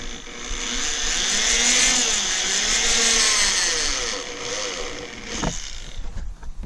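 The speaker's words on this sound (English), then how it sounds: "this is where you want to drill your 5/8 inch hole" A power drill whirs steadily boring a 5/8 inch hole near the bottom of a plastic worm compost bin, its motor pitch rising and wavering for several seconds before spinning down with a brief clatter.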